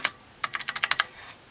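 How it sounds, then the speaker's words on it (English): Keys clatter on a spongy Apple //c computer keyboard: one isolated press, a short pause, then a quick run of about eight crisp, close keystrokes over a quiet background. "This one is a different keyboard, one with a spongier feeling."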